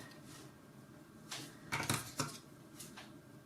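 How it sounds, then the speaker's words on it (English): Scissors snipping yarn loops on a small knitted nativity gnome, a few quiet close clicks and snips clustered in the middle over a faint room background, no talking. "These ones I'm now going to cut."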